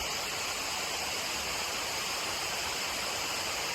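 Steady, dense rush of falling water from a waterfall, loud and continuous with no breaks, a broadband roar filling the whole clip without voices.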